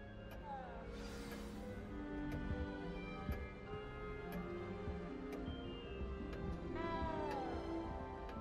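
A cat meows a few times inside the Hogwarts Legacy castle, fairly soft and set against steady game ambience, music and ticking, with a voice speaking briefly nearby.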